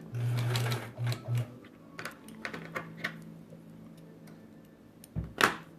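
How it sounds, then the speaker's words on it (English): A sewing machine stitches tiny quilt squares in short, rapid whirring bursts, followed by light tapping and handling sounds and a sharp clack near the end, close and fairly quiet. "We are just sewing these tiny squares over and over again"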